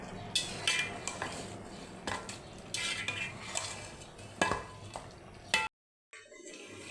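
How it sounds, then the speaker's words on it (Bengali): A spoon stirs mutton curry with chui jhal and whole garlic in a metal pot, making quick scraping clinks and clattering knocks in irregular bursts, close and clear, before a brief silence near the end. "মাংসটাকে একটু নেড়ে দিচ্ছি, একটু পরপর ঢাকনা খুলে নেড়ে দিতে হবে।"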